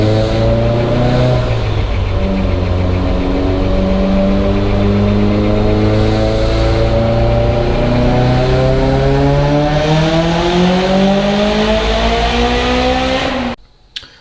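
A Mitsubishi Evo 8 engine fitted with an FP Black turbo and running 93 fuel pulls hard on a dyno at 24 pounds of boost, its loud, close engine note climbing steadily in pitch for about thirteen seconds before abruptly cutting off.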